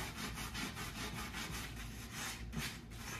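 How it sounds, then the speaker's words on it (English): An SOS pad scrubs rust off a cast iron skillet in steady, rapid back-and-forth rasping strokes, close and continuous, with no talking. "I am just going to try to scrub all of this rust off."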